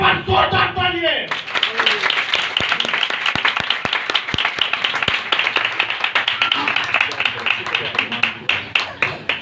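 Loud clapping from a church congregation, starting after a brief voice and then filling the room as a dense, sustained burst of many hands with sharp individual claps standing out.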